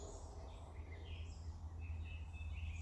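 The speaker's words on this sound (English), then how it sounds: "I should just let you listen to the bird song a little bit." Faint birdsong drifts in outdoors near a stream, with scattered high chirps and short whistled phrases over a low, steady background rumble.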